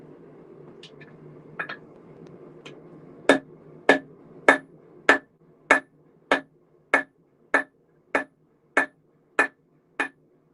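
Hammer forging a railroad spike knife, with a few light taps followed by about twelve evenly spaced, ringing metallic strikes in a steady rhythm, close and clear with no talk.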